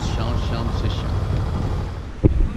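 Strong wind buffets a sailboat in a steady, loud rumble that fills the whole stretch, with a voice talking over it and a brief knock near the end.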